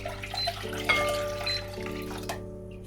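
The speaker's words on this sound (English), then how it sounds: "I've transferred the lemon water into a bigger dish" Lemon juice mixed with water pours and splashes into a bigger dish in a home kitchen while making a lemon meringue pie, a steady liquid trickle heard close up.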